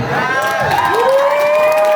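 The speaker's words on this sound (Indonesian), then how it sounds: "Berikan tepuk tangannya." A crowd at a girls' madrasah quiz final cheers and shouts with rising, wavering voices, loud and continuous, with little distinct clapping.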